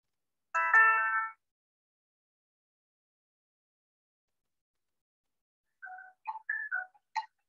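A phone chimes twice for an incoming text message, each time a short electronic tone pattern. The first alert is a brief buzzy chime and the second a few quick melodic notes, with silence between them.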